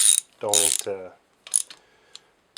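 A hand ratchet clicks and ratchets in a few short, close bursts while snugging valve spring bolts on a DSM 4G63 engine, with brief pauses between strokes and no talking.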